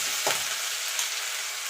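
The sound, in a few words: ginger and green chilli paste frying with panch phoron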